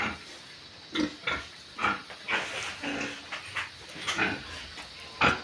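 Pigs and piglets settling down to sleep, a series of short grunts and snuffling snorts at irregular intervals, fairly close and alone without speech.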